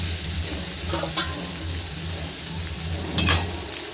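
Boiled sweet potato stir-fried with golden onions in a pan, a steady close sizzle broken by two sharper clattering stirs, with no talk.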